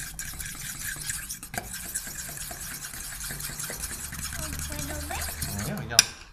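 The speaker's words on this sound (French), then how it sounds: "On continue de mélanger." Banana chocolate cake batter being stirred with flour in a bowl, a steady scraping and stirring texture with light utensil clinks against the bowl, a sharp clink near the end.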